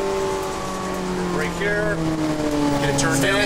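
A Ferrari 430 Scuderia accelerates out of a turn on the Las Vegas Motor Speedway track, its engine note heard from inside the car and rising steadily in pitch and loudness, under a person talking.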